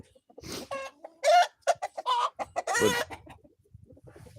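Rescued hens cluck and squawk close by in a series of short, irregular bursts, with an occasional louder squawk among softer murmurs from the flock.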